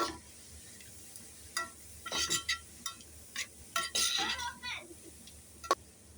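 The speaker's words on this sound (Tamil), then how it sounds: "நம்ம அதை வந்து திறந்து திரும்ப ஒருக்கா கிண்டி விட்டுருக்கலாம்" A cooking pot lid is lifted and cabbage is stirred in the pot, giving a run of clinks, scrapes and rustling stirs in irregular bursts, close and moderately loud, with faint voices in the background.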